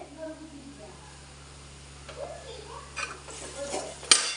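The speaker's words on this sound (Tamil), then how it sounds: "கொஞ்சம் பச்சை வாசனை போகிற வரைக்கும் கொஞ்சம் வணக்கிட்டு" Ingredients being sautéed and stirred in a pan for a tamarind okra thokku, with soft scraping of a utensil, light clinks and a faint sizzle building toward a sharp clink near the end; fairly quiet throughout.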